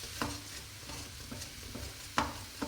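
Vegetables for Chinese vegetable rice sautéing in a little oil: a soft, low sizzle with a few sharp utensil clacks against the pan at irregular moments, fairly quiet and with no voices.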